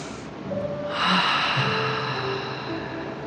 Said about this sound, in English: Take a deep cleansing breath.